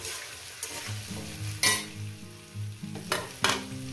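Potato and taro stolons frying together in a pan, a hissing sizzle broken by several sharp bursts as a spatula stirs and scrapes, close and fairly loud, nobody speaking.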